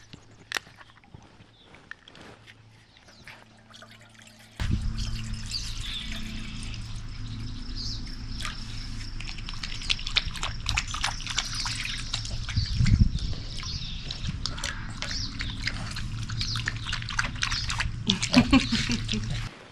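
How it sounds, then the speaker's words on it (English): Distilled water poured from a sealed jug into pet bowls: a steady splashing pour begins partway through and continues with liquid trickling and small clinks, close by. "I'm going to pour 2 cups into each bowl so everything is equal."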